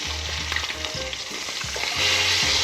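Fish sears in tallow in a hot cast iron pan, a close, steady sizzle with a few soft scraping stirs and a slight swell toward the end.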